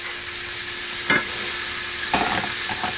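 Steak sizzles in a pan under a low, steady fry while a utensil stirs it, giving a few short scraping clatters near the middle and end.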